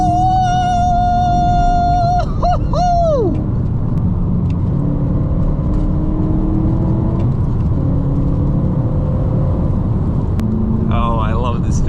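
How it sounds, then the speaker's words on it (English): A BMW E92 M3 engine rises and falls through blipped downshifts, the pitch sweeping up and dropping over a constant rumble heard from inside the car, with road roar throughout. "Yeah, I like the downshifts."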